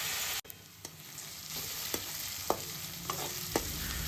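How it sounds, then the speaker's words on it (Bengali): Onions fry in a pan for a gondhoraj chicken dish, with a continuous moderate sizzle and a series of sharp spatula scrapes and taps spaced about half a second to a second apart. "এবার পেঁয়াজগুলো যখন মোটামুটি ভাজা ভাজা হয়ে যাবে, একটু ব্রাউন হয়ে আসবে"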